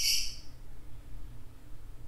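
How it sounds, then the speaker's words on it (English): Birds call outside a jungle clinic: one sharp, high chirp opens, then only faint outdoor ambience with soft low rumble follows, no voices. "The birds are a little bit loud."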